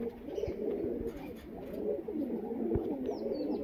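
Breeder pigeons in a loft keep up a continuous, overlapping low cooing murmur, fairly quiet and steady, broken by a few faint knocks and light chirps.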